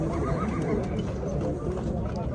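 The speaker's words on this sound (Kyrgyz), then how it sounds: "Аттарды урдуруп көрүп атат." Horses at the Jalal-Abad horse market whinny amid a busy crowd noise, with hoof clatter and people talking in the background throughout.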